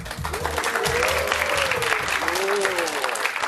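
Studio audience applauds steadily, a dense, loud burst of clapping with a voice speaking over it.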